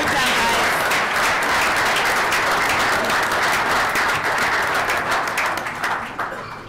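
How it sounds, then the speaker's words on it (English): A room at a city council meeting breaks into a full round of applause for young champions of a fall league, loud, dense clapping that carries steadily and then thins and fades near the end. "give a round of applause to these young men who are here today as champions of the Fall League"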